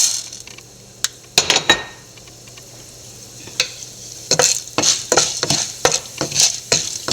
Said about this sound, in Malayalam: എണ്ണ നല്ലപോലെ ചൂടായിട്ടുണ്ട് കടുക് ഇട്ട് കൊടുക്കാം എടുത്തു വെച്ചിരുന്ന ഉഴുന്നിട്ട് കൊടുക്കാം